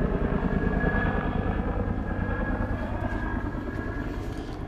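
A helicopter makes a quiet pass near a motel, heard as a steady low rotor rumble and drone that fades slightly over the clip, with no talking.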